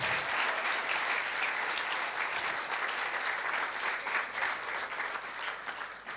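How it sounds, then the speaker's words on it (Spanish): Church congregation gives a sustained round of applause during a Sunday sermon, a dense, steady wash of many hands clapping that holds evenly for several seconds before easing slightly at the end. "dele un fuerte aplauso al Señor por eso"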